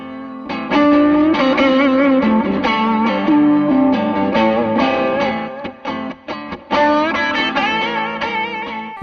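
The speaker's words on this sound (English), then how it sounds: "ZEUS Drive is an overdrive pedal." Electric guitar played through a TC Electronic ZEUS Drive overdrive pedal, mid-gain distorted chords and single-note lines ringing with sustain, loud and close, with brief pauses between phrases.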